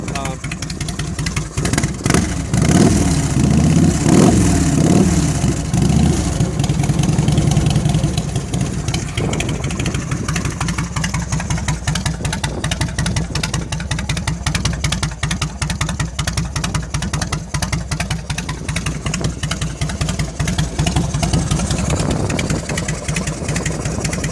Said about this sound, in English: Starts right up. It's got Vance and Hines pipes on it.